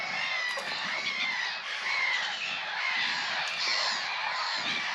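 A dense flock of black-headed gulls at a North Norfolk bird hide keeps up a constant, overlapping chorus of harsh squawking calls, steady and loud, with no voices over it.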